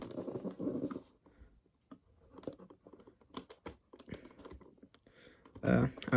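Close, irregular snips and crisp plastic crinkling from scissors cutting through a toy figure's packaging, ending in a louder burst of rustling.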